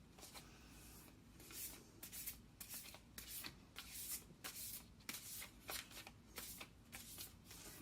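Oversized Black Moon astrology cards are shuffled in a steady rhythm of soft rubbing swishes and papery slaps, close and quiet, with no voices.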